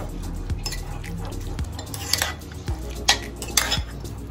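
A spoon clinks and scrapes against a bowl while mixing veg mayonnaise sandwich stuffing, with rhythmic stirring taps and soft squishy knocks, close and fairly loud.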